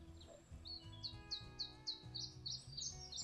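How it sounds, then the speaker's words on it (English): Quiet bird song on a peaceful hillside along the Camino del Norte, a repeating series of high chirps over a low steady background hum, fairly faint and continuous. "You hear the birds?"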